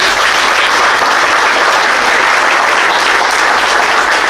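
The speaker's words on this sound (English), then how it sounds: "So I give a round of applause to the legislature." Sustained, dense applause from an audience at the grand opening of a small business center, steady and loud throughout with no voices standing out.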